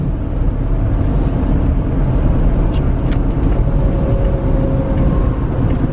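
A Ford Explorer SUV accelerates onto a highway, heard from inside as a loud, steady road and engine drone with constant tire rumble and a few faint clicks.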